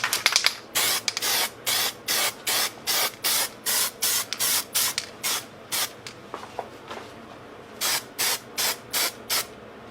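Proxl Plasticolour sprays onto black plastic car trim in about twenty short, even hissing bursts with brief pauses between them. The spraying is close and fairly loud, and no one speaks.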